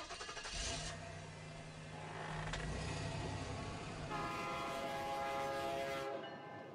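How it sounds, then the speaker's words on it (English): An approaching train sounds in a suspense radio drama, its bell clanging in a steady rhythm and its horn blaring in long sustained tones over rumbling wheels, fairly close and with no voices. "I could hear its bell ringing and the cry of its whistle."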